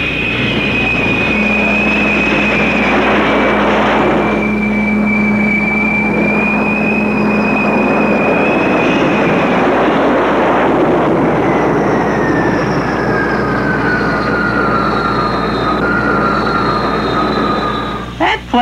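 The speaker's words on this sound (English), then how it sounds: "Watch carefully how the cable grabs hold of the plane." Jet planes land on the flight deck of the aircraft carrier U.S.S. Eisenhower in 1978, caught by the arresting cable, under a loud, unbroken engine roar with whining tones that slowly fall in pitch.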